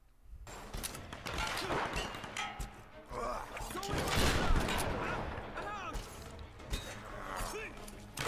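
Gunfire and blasts from a point-blank shotgun fight against enemies in Tomb Raider 2013, with a dense, continuous clatter of shots, impacts and crashes mixed with game sounds throughout, loud and busy.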